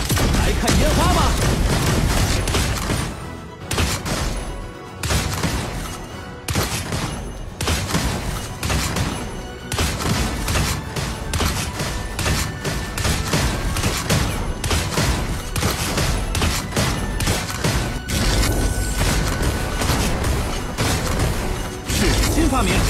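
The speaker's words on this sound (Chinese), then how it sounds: "各位，来看烟花吗？" Fireworks go off in a video game as a rapid, dense barrage of bangs and crackling bursts that are loud and close and run almost continuously, with brief gaps and game sound effects.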